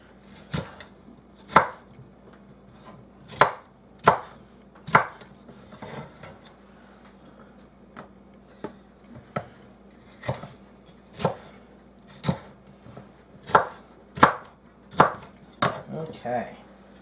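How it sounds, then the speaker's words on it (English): A knife chops bell peppers into chunks on a cutting board, with sharp, separate thuds at an irregular pace, close and clear, and a faint murmur in the background. "Just chunk up my peppers."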